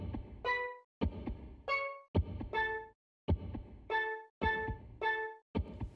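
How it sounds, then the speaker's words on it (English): A heartbeat sound effect in a Super Mario Maker level, a thumping pulse repeating roughly once a second, alternating with bright chiming game music notes. "the heartbeat sound effect was there to make sure the notes are hearable"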